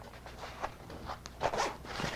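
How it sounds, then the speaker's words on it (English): A zipper being pulled shut on a fabric pistol carrying case for a Smith & Wesson M&P Bodyguard 380: several short, close, quiet rasping strokes in bursts, with soft handling noise between them and no voices. "you can zip it up"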